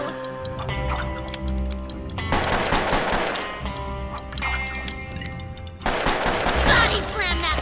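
Twin revolvers fire in a gunslinger duel in the Puppeteer video game, sharp shots landing in several loud bursts with rapid clicking and ringing between them, over busy game music and effects.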